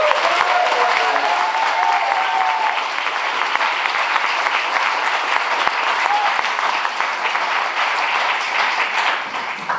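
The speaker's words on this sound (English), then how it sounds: "So big round of applause for Mary Jahana." Loud, sustained applause from a debate audience for a congressional candidate in Connecticut's 5th District, steady clapping filling the whole stretch with no voices over it.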